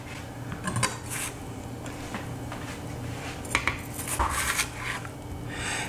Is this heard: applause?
no